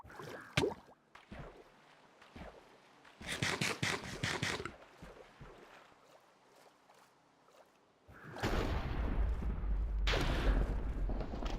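Thunder called down by a trident in Minecraft Bedrock Edition, a loud, rumbling crash with a low roar that swells late and holds to the end, following earlier scattered game sounds.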